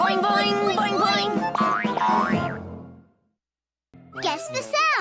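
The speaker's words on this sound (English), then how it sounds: "Boing, boing, boing, boing." Cartoon boing sound effects from a Gerald McBoing Boing guess-the-sound game, a run of springy, wobbling boings that bend up and down in pitch, then a short silence and another burst.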